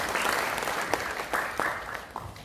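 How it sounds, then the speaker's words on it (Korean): An audience applauding, a steady patter of clapping with a few louder individual claps standing out, moderately close. "여러분 큰 박수 부탁드리겠습니다."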